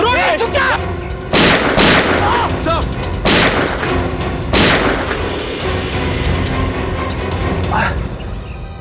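Gunfire in a Hindi crime TV drama, several loud, close sharp blasts spaced a second or two apart amid dramatic background sound, with a voice briefly audible at the start.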